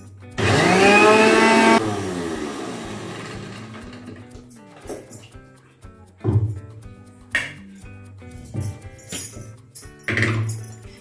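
Electric mixer grinder whirring loudly as it grinds curry leaf powder with black gram, a strong burst at the start that stops quickly, followed by quieter clatters and kitchen handling sounds.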